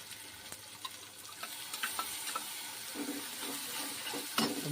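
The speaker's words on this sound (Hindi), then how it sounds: "अब मसाले डाल देते हैं।" Spices hit hot oil with fried onions in a pan, a steady close sizzle broken by stirring scrapes and small clinks, no voices.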